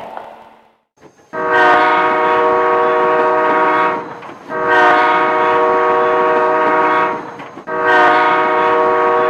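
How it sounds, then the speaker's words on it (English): A train horn gives three long, loud chord blasts, each lasting a couple of seconds with short gaps between, close by and clear with no talking. "It had 3 short blasts, and 3 short blasts mean the train is backing up."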